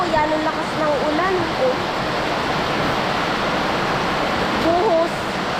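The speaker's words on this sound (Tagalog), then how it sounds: "Tingnan nyo po, yan ang lakas ng ulan." Heavy rain pours down steadily over a rural field, a dense, constant hiss filling the scene, with a voice talking faintly over it at the start and again near the end.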